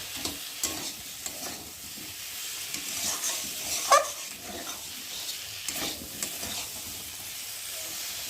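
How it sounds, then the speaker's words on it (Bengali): Spice masala for a dish with gati kochu (taro) frying in a pan while being stirred, with a soft continuous sizzle broken by scraping strokes and small clatters at irregular intervals. "দেখো মশলাটা দিয়ে ভালোভাবে কষিয়ে নিয়েছি, আর মশলা ভালোভাবে ভাজা হয়ে গেছে"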